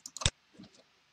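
A few light, quick clicks on a computer keyboard as a number is typed, close and quiet, followed by a soft faint tap.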